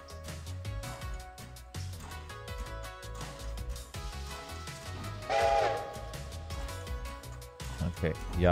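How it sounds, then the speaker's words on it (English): A train whistle sounds in a train simulator video game, a steady tonal blast rising louder near the middle and again at the end, layered over continuous game sounds and background music. "I love how all the whistle sounds get distorted when you teleport or move really quick."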